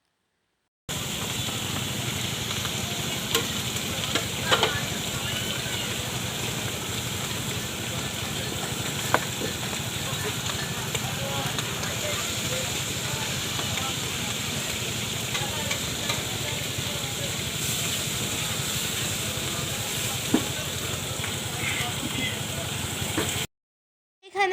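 Brinjal and hilsa fish coated in spices, including turmeric, fry in mustard oil, giving a steady, close sizzle that holds throughout with occasional soft clicks and stirring sounds.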